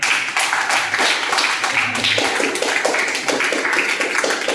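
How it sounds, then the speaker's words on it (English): A crowd at a school Youth India Parliament event applauds the children with steady, dense clapping that keeps going for several seconds, close and fairly loud. "give the big round of applause to the children"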